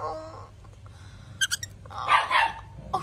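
A dog barks near a small child at home: a quick pair of sharp barks, then a louder, longer burst, all fairly faint against a quiet room.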